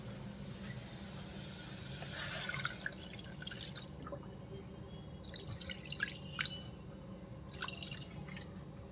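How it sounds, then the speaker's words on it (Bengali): Water poured into a cooking pot over fried garlic to start a soup, heard as a light trickle with scattered drips and splashes, close and fairly quiet, with no voices. "এখন আমি পানিটা দিয়ে দেব"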